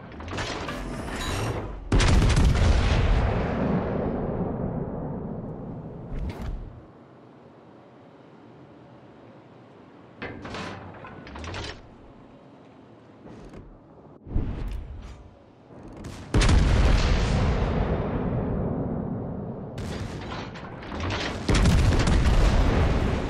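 Naval guns on a warship blasting at a target in a video game, with loud booming volleys in repeated bursts separated by quieter gaps of rumbling engine noise.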